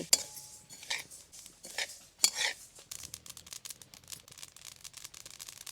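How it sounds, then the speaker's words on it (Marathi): Sesame seeds dry-roast in a kadhai over a wood-fired chulha, stirred with a spoon that scrapes and clinks against the metal in quiet, irregular strokes. "कढई ठेवते हवरी हवरी चांगली भाजून घ्यायची"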